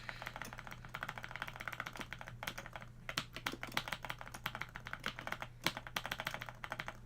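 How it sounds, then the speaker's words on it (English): Steady, rapid clacking of keys on a computer keyboard comes through clearly and close for the whole stretch. There is a faint low hum underneath and no talking. "Oh, I was typing."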